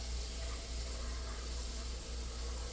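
Tap water runs steadily into a coffee pot that already holds vinegar for cleaning, a constant rushing hiss with low rumble and no pauses.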